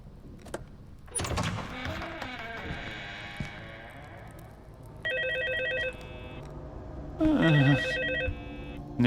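A telephone rings twice inside the horror video game Song of Horror, each burst a bright electronic trill standing out against eerie ambient tones and rumbling game sounds.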